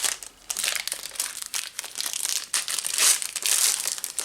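Plastic wrapping crinkles and crushes as four vintage toy replica packages are torn open, a busy close crackling that runs continuously in uneven bursts with no talk.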